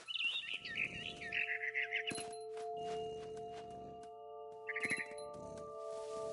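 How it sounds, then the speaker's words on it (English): A barn swallow in the video game What Remains of Edith Finch chirps in quick twittering bursts, first a longer run, then a short burst later, over quiet sustained tones and soft chimes. "Then I heard chirping outside my window. It was a barn swallow going back to her nest."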